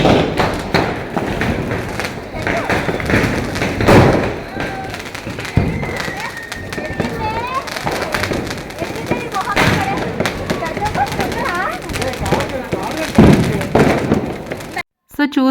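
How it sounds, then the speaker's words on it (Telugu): Diwali firecrackers bursting during a family celebration: repeated thumps and crackling bangs, fairly close, over a busy background of voices and shouts. "సో చూసారు కదా టపాసులు ఎంత బాగా కాల్చుకున్నామో"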